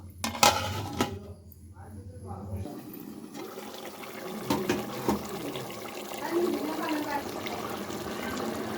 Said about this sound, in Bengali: এখন আমি ডাকনা দিয়ে ডেকে দিব